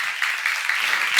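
A church congregation claps together during a sermon, a dense steady patter of hands that holds at a moderate level for about a second before a sharp louder burst at the end.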